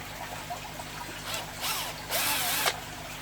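An electric drill whirs in short bursts while deburring a small hole, revving up briefly several times with pauses between, close and fairly loud.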